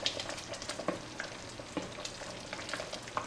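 Plum jam simmers on medium heat in a pot, a steady soft bubbling hiss with occasional louder blips and plops, close and low in level, with no talking.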